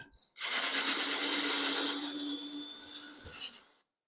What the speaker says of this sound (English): We can just take the drill with the same size drill bit we've been using